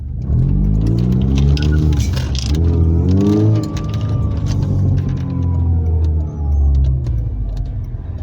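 A Mercedes-Benz Kompressor car with a modified intake airbox drives and revs hard, its engine pitch climbing through several gears with shifts between them, loud and close throughout.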